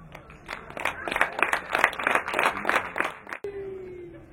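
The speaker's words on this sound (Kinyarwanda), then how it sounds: "bakumere amashyi" Wedding guests clap together in a steady, rhythmic burst of applause lasting about three seconds before it cuts off abruptly to quiet.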